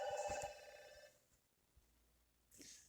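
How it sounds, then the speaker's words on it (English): An electronic telephone bell rings in a short burst that quickly stops, then near silence with a soft click, and a brief hiss at the end. "Of course, there's a phone call as I'm going through here."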